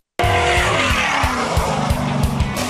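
An off-road race truck's engine screams at high RPM through a Borla exhaust at the TORC Championship round in Crandon, Wisconsin, loud and continuous with rhythmic pulsing and tire-skid grit, alone and close.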